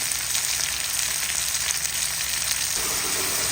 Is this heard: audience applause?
no